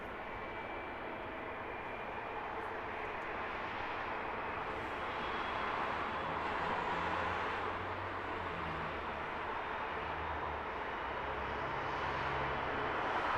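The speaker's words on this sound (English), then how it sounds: "Lovely smoky engine start up from the United in front of us." A 26-year-old United Airlines Boeing 767-300 starts its engines at a misty Heathrow Airport, a loud, steady jet roar that holds for the whole stretch with a deep rumble swelling partway through.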